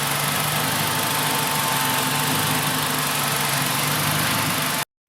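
A Renault Twingo engine idles steadily after starting, a close, constant drone with a low hum that runs evenly and cuts out abruptly near the end.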